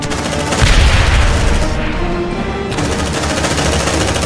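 Sustained rapid gunfire from a favoured weapon in the sci-fi game Aliens: Dark Descent, loud and continuous throughout, with dense booming reports and no pause.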